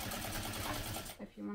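A sewing machine runs fast, stitching bag handles with an 1/8 inch seam allowance, a dense buzzing whir of rapid needle strokes that stops abruptly near the end, followed by a brief quiet tone.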